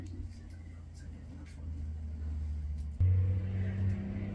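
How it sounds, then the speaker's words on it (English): Steady low rumble of highway traffic heard from inside a moving camper on a Kentucky road trip, a continuous engine drone that swells louder partway through, with no clear voices over it. "we're on a highway, so you might be hearing some traffic."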